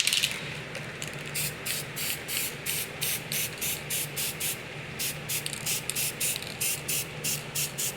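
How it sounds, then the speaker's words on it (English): Green spray paint hissing from an aerosol can in short bursts, a steady rhythm of repeated sprays about half a second each, close and fairly loud over a faint background. "I just get the green back out and spray it over."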